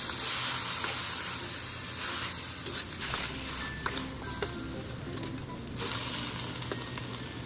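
Pork for Filipino menudo sizzles steadily in a pan as it is stirred, a continuous bright frying hiss with occasional light scrapes and pops, fairly close and unaccompanied by talk.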